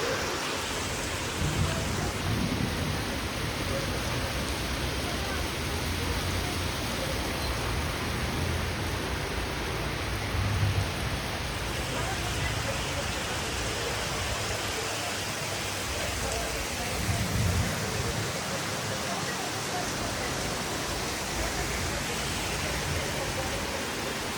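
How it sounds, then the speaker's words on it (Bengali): Heavy rain of large drops pours steadily outdoors as a loud, continuous hiss, with a few low rumbles of thunder rising briefly partway through. "বেরিয়ে দেখলাম যে জোরে বৃষ্টি পড়ছে"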